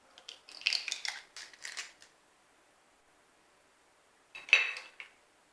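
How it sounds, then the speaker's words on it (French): Three eggs being cracked into a salad bowl, a short burst of crisp taps and shell crackles, then a pause and one more sharp crack, close and fairly quiet. "nous allons casser nos 3 œufs."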